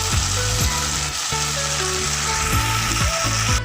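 Broiler chicken pieces fry in a pan with salt, chilli powder and chopped green chillies, giving a loud, steady sizzle broken by repeated scraping strokes of a spatula stirring the mixture.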